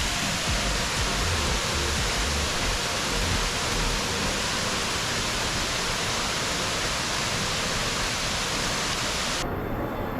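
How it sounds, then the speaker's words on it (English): A Panama waterfall crashes onto rocks in a dense, unbroken roar that stays loud and close from start to finish. "you will begin to hear the waters crashing on the rocks"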